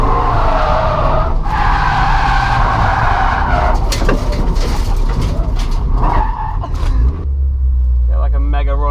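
A Toyota GT86 drifting, its tires skidding and squealing over a loud, continuous engine roar, before the revs drop into a low rumble near the end.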